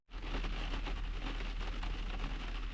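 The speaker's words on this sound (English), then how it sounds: "The rain set in, it was forecast." Steady rain pours down in the Scottish Borders, a dense, continuous hiss with a low rumble beneath, fairly quiet and unbroken throughout.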